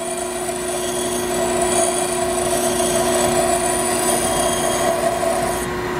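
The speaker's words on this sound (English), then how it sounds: "So I'm going to go on and grind a little bit more of this back." A bench grinder runs continuously while a fly cutting tool bit is ground against the wheel, giving a steady, loud whine with a persistent hum and no pauses.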